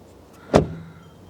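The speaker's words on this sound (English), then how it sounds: "And as I shut the door," The door of an MG ZS EV electric car shuts with a single solid thud, close by and isolated against quiet surroundings.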